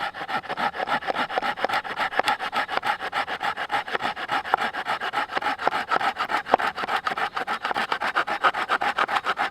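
A folding saw cuts through a piece of wood held secure, giving a close, loud, rhythmic rasp of quick back-and-forth strokes repeated evenly throughout.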